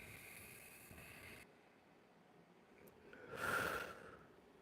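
A forceful breath blown out during seated qigong breathing practice, a single audible rush of air swelling and fading near the end after a quiet stretch.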